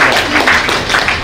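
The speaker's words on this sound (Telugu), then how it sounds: "గట్టిగా చప్పట్లు కొట్టి వందనం చేస్తాను" An audience claps loudly in honour of a lawyer at a gathering, dense continuous applause filling the whole moment.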